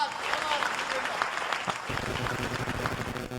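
An audience claps steadily at a Hindi poetry recital, a dense, continuous wash of applause that swells slightly partway through.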